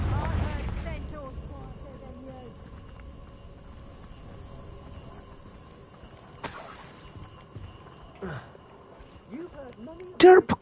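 A Confringo spell blast in Hogwarts Legacy: a rumbling burst at the start fades under a long low crackle, followed by a few sharper impacts and a loud crack near the end.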